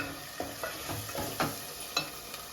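Goat head meat frying in a pan with turmeric and salt, a close steady sizzle punctuated by several quick scraping stirs of a spoon.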